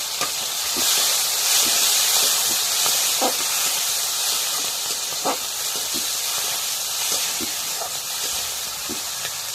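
Oil poured into a hot pan, giving a continuous loud hiss and sizzle with scattered small pops and crackles, steady and close for the whole stretch.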